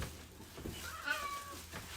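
A cat gives a single short meow, faint and close, over low room background with no voices.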